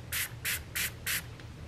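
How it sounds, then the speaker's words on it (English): Toner sprayed onto a cotton pad in a skincare routine: four quick, close hissing spritzes in an even rhythm, then a faint fifth puff, with no talking. "I just spray it onto a cotton pad"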